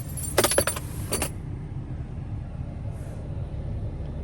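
Keys for a 2018 RAM 3500 Mega Cab Limited diesel pickup jangle briefly near the start, a short metallic rattle of a few clinks up close, followed by quiet cabin background.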